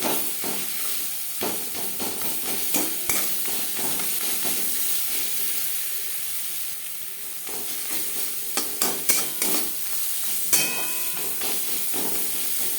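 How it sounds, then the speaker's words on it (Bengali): Onion and green chili frying in a pan for a red amaranth greens dish, a steady sizzle and hiss broken by scattered stirring scrapes and knocks, close and continuous for the whole stretch. "পেঁয়াজ লঙ্কা ভাজা হয়ে গেছে"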